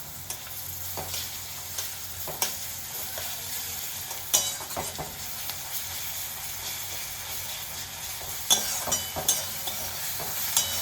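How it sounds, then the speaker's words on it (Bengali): Chopped onion and garlic paste sizzle steadily in hot oil in a pan for a fish-roe curry, a constant frying hiss broken by occasional scraping stirs and light clinks of a utensil, close and alone. "ওই তেলের মধ্যে দিয়ে দিচ্ছি কুচো করা পেঁয়াজ পেঁয়াজটা এরকম লালচে লালচে করে ভেজে নিয়েছি"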